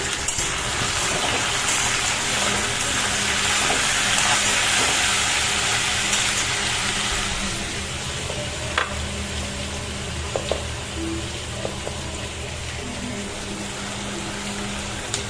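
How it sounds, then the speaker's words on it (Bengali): Potatoes frying in a pan, a loud, dense sizzle with hissing steam that eases somewhat halfway through into a lower crackle with occasional small pops and clinks, close and continuous with no talking. "এখানে আলু ভাজা বসিয়ে দিয়েছি"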